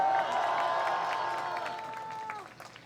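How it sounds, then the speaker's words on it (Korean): An audience claps and cheers in a dense burst that fades away over a few seconds, at a Korean political party rally. "큰 박수 부탁드리겠습니다"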